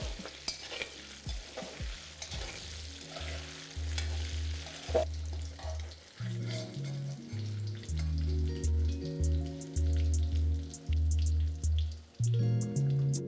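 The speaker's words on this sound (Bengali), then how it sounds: "তাহলে এখানে আলু আর পটলটা এখানে দেখুন ভালো করে ফ্রাই করা হয়ে গেল।" Potato and pointed gourd pieces fry in a pan, a soft continuous sizzle with occasional stirring clicks, later joined by loud tonal background music.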